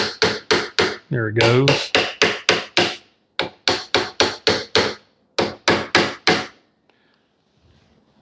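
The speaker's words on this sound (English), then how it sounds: "Now I'm using a gunsmithing tool or a hammer." Repeated tapping of a bearing into place with a gunsmithing hammer during an X10 bearing upgrade kit install, several quick bursts of sharp close knocks with brief pauses, a short scraping sound early on, and a voice speaking briefly near the end.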